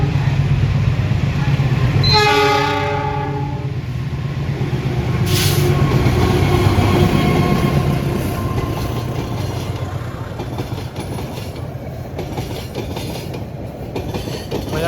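The Manahan passenger train heading for Solo rolls past on Indonesian rails, a loud continuous rumble with clattering wheels and a short horn-like tone near the start, staying steady and close throughout.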